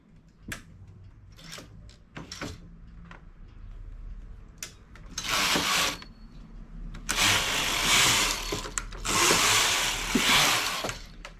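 A knitting machine carriage sweeps across in two or three long, loud rasping passes while knitting rows of a halter top, after scattered clicks and clacks.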